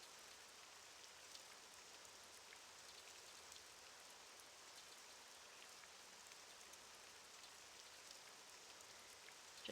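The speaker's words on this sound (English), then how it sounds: "Now it's raining." Steady rainfall in Morrowind, a dense, even hiss of drops spread across the whole stretch, faint and unbroken with no other sound standing out.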